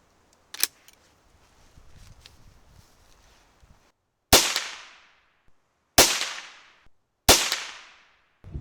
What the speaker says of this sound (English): Let's take a few shots.